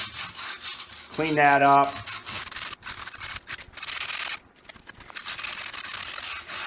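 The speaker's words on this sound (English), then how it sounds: "We just take some really coarse sandpaper," Coarse sandpaper, around 40 to 80 grit, rubs back and forth inside a tire rim with a steady, gritty scraping. Someone speaks briefly over it.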